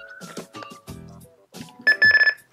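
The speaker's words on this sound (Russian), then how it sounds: "Обратите внимание, что звук меняется как на сигнализаторе, тон." A FOX Mr+ or MXr+ electronic fishing bite alarm emits a short burst of loud warbling electronic tone near the end, following a few softer blips and a brief low buzz.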